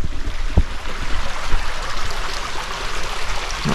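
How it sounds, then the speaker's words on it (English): River flowing on a winter day, with a broad, steady rush of water close by and a few light splashes and knocks. "Check the state of the river today."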